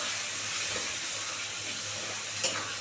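Tomatoes and ginger-cashew paste sautéed in an oiled pan for a soybean and drumstick curry, a steady close hiss of frying with soft stirring scrapes and one brief louder clatter near the end.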